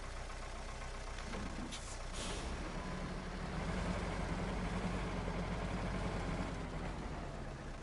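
A tractor in the SnowRunner video game drives between trees on hard mode, its engine a steady low rumble throughout, with a brief hiss or scrape near the start, loud and continuous.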